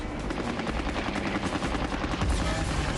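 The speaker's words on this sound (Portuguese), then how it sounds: "Os novos canhões antiaéreos fazem o que podem" Anti-aircraft guns aboard the Yamato battleship fire at attacking American planes in a dense, continuous rattling barrage of rapid shots, loud and chaotic, with no talk over it.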